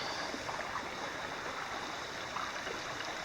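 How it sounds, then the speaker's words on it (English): A brook with plenty of water rushes past the Sages Ravine campsite, a steady broadband wash of flowing water heard close and continuous without voices. "the brook has plenty of water in it"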